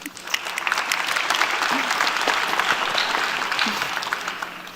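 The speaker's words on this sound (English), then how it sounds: "I believe that we have to give a round of applause." A room full of people applauding at a United Nations summit opening ceremony, brisk clapping sustained throughout with a faint voice or two underneath.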